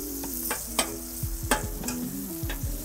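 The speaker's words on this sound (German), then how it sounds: "Nochmal schön ein bisschen in der Butter schwenken das Ganze." Asparagus is tossed and sautéed in butter in a pan, with a soft continuous sizzle broken by several sharp clattering tosses and scrapes, close and without talk.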